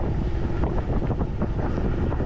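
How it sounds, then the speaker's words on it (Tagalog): Wind buffets the microphone during a ride along an expressway, a dense, constant roaring rush that stays loud and unbroken throughout, with no voices. "Sarap ng hangin."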